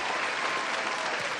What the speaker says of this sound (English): Please, a round of applause for all the audiences, the performers, and all of you for coming over